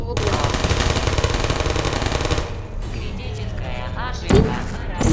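A turret in the Portal video game fires a rapid, loud, continuous stream of gunshots for a couple of seconds, then stops, leaving quieter game noise and a short burst of voice.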